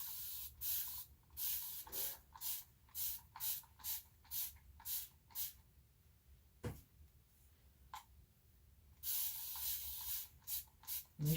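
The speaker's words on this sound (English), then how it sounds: "you're going to spray it with water" A spray bottle fires a quick run of short, hissing water bursts close by onto a combed-out curly wig, pauses with a couple of soft knocks, then sprays a few more times.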